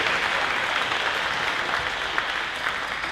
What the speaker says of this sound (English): Big round of applause for these 30 All-State athletes.